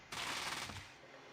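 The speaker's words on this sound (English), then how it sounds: "And with a burst, he starts shooting" A short machine gun burst from the Fallout video game fires against a super mutant, loud and close, one dense rattle lasting about half a second before trailing off into quiet.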